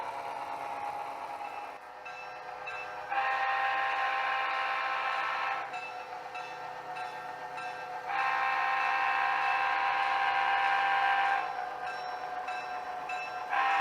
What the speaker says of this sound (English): the locomotive pulls out of the yard and then does a reverse move on the main